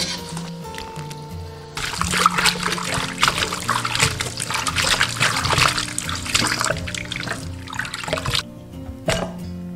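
Raw chicken feet rinsed clean under running water from a tap, a close splashing and trickling that starts suddenly after a quiet moment, with wet squishing handling throughout and a brief drop near the end.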